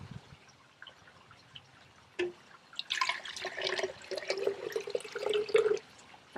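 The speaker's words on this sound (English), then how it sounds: "So first of all you have to start off with the jug, and then you put some water in there." Water poured from a tap into a jug for mixing alginate to cast a hand; a few drips, then a few seconds of splashing, gurgling flow that rises in pitch as the jug fills, close and moderately loud.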